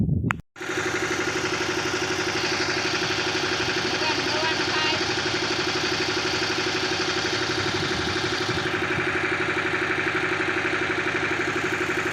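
A tractor engine, running for pesticide spraying, idles with a steady, even rumble for several seconds after a brief starting sputter, close and continuous.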